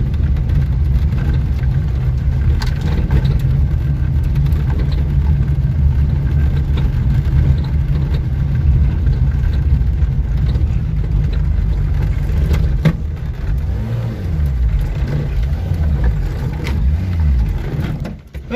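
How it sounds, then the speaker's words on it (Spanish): A Renault 4L car engine drones continuously while driving, a loud steady low rumble of the small four-cylinder with road and cabin noise and slight changes in pitch near the end. "No te preocupes, voy en un 4L."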